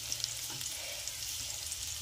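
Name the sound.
onions frying in a pan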